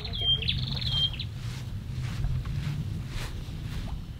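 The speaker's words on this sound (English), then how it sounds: "Wow, do you hear the birds?" Birds chirp on a small tropical island in the Belitung Islands, a few bright high calls near the start, then fainter, over a steady low rumble of background noise.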